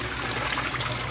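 Water gushing out of a blocked drainage pipe, a short, steady rush of flowing liquid heard close and fairly loud throughout.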